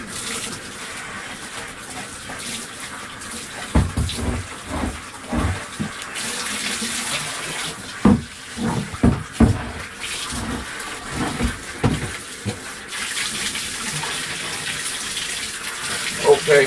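Tap water runs hard into a bucket being rinsed out, a loud continuous gush with splashes and sloshing bursts as the bucket moves under the stream. No voices are heard.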